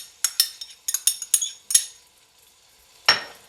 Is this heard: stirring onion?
yes